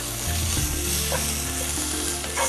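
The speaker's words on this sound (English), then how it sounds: "I'm going to add about 2 teaspoons of ginger garlic paste." Ginger garlic paste hits hot oil with browned fried onions in a pan, giving a steady loud sizzle and crackle with a little stirring, no voices.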